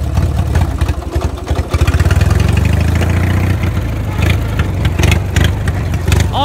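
A small engine that starts without choke on a warm day, then settles into a steady, loud idle with an even low rumble and some mechanical clatter close by.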